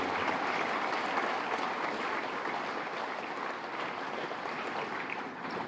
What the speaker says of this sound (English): give John and our member services department a round of applause